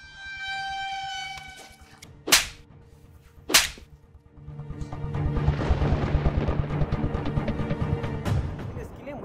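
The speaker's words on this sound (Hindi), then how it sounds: "थप्पड़ मारा" Two sharp, loud slaps crack out in a Hindi drama scene about two seconds apart, set against a dramatic musical score that swells afterward.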